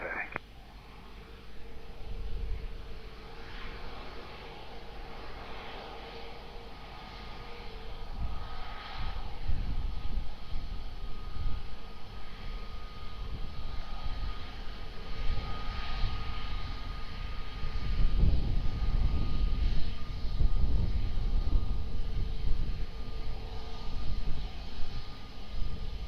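A heavy airliner taxis at Lisbon Airport, its engines a low, steady rumble that swells toward the end, with faint voices in the background.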